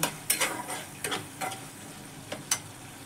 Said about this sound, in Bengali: এর মধ্যে আমার ভেজে রাখা সবজিগুলো একে একে দিয়ে দেব। দিয়ে আবার ভালো করে কষে নেব একসাথে সব।